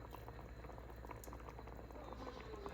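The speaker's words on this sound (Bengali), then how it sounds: "এই যে ফুটে উঠেছে শুক্তোটা" Shukto, a Bengali mixed vegetable stew, bubbling at a boil in a pot, with a dense continuous simmer of popping bubbles and soft liquid gurgles heard close up, unbroken and without talk.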